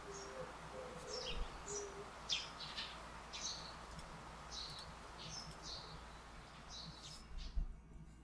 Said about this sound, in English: there's like a 5-second loop of birds